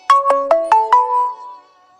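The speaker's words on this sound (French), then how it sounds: "Désolée pour mon téléphone qui vient de sonner." A mobile phone ringtone chimes five quick descending melodic notes that ring out and fade, loud and close, with no voices over it.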